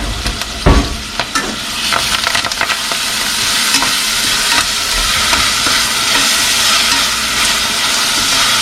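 Onions and curry leaves frying in a pan, a loud steady hiss and sizzle close by, with a few stirring scrapes near the start.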